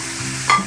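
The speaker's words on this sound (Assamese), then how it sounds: "এইখিনি মছলাখিনি মই তেতিয়ালৈকে ভাজিম যেতিয়ালৈকে মছলাখিনি ভালকৈ গলি তাৰ পৰা তেলটো ওলাই নাযাওক" Garlic, ginger and chilli paste frying in hot oil makes a soft, continuous sizzle, briefly punctuated by a short stirring scrape near the middle of the short clip.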